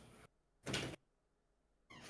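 A door slides open indoors with a brief, close rushing scrape of under a second, set between quieter stretches of faint room sound.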